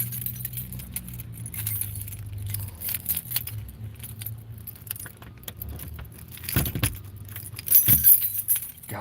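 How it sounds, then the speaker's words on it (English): A ring of many property keys jangles and clinks in bursts close by while someone searches for the right one, with a car engine humming in the background. "I got all these keys"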